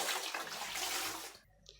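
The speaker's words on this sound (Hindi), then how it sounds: "अब हम इसके ऊपर पानी डाल के देखेंगे कितना साफ़ हुआ हमारा चूल्हा" Water is poured over a freshly cleaned gas stove, making a steady, close rushing splash for about a second and a half before it cuts off.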